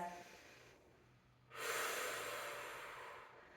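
A quiet exhale, a pause, then one long deep breath drawn in close to the microphone, slowly tapering off.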